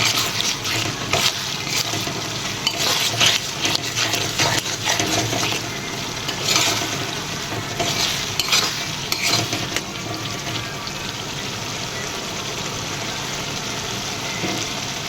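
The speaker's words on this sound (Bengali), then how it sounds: "হলুদ গুঁড়ো, লঙ্কা গুঁড়ো দিয়ে এটাকে ভালোভাবে মশলাটাকে আমি নাড়াচাড়া করবো।" Potato curry (alur dom) being stirred in a pan with turmeric and chili powder: irregular scrapes and clinks of a utensil against the pan over a soft frying hiss, fairly close and loud, with no talk.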